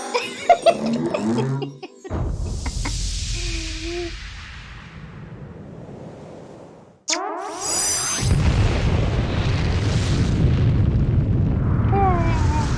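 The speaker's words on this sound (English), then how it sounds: "Explosion!" A missile explosion in the video game Final Fantasy XIV: two loud, broadband booms with rumbling tails, the second louder and more sustained, mixed with game effects and brief voice-like tones.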